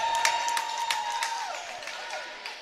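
A high school volleyball crowd in the Tri-Center at Missouri Valley match claps and cheers after a kill. Applause and whistles fill a gym, with a long steady whistle tone and a scattered rhythm of clapping under it.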